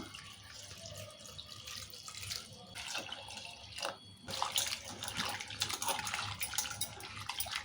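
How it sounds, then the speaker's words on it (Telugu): Running water splashes and pours into a container, with sloshing and handling noises as chopped broad beans are rinsed, close by and fairly loud. "ఇక నీళ్ళు పోసి కడుకుందాము"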